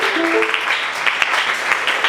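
A church congregation at a worship service applauds together in a steady, dense wash of clapping that fills the room, with a few voices calling out over it.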